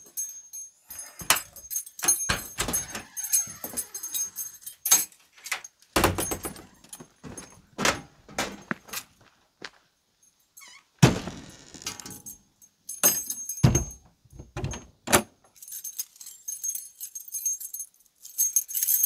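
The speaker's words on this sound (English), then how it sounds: "I'm just locking this because it's down here on the street" Metal keys jangle and click in bursts while an outbuilding door is locked, with rattles, latch clunks and short silent gaps between handling sounds.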